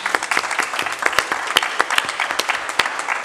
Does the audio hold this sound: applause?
yes